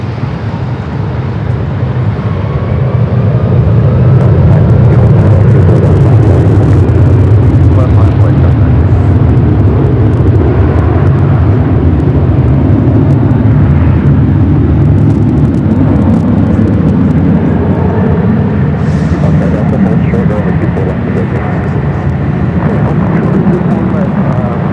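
An airliner rolls down runway 25 right on the south side of LAX for takeoff, a steady, loud engine roar building and holding throughout while people talk over it.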